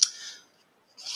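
Scissors snipping through paper while cutting out a circle, two short crisp bursts of cutting at the start and end with a pause between, close and alone.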